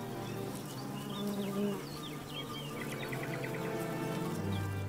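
A steady, close hum of many honeybees buzzing together at a hive entrance, with occasional faint bird chirps in the background.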